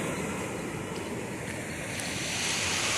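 Water rushing at high flow through an open floodgate at the Serro Azul dam, a steady, loud broadband roar that swells slightly toward the end, with no voices.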